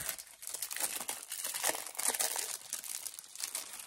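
Plastic packaging of a diamond painting kit being opened, close crinkling and crumpling with occasional tearing in irregular bursts, quiet and with no voices.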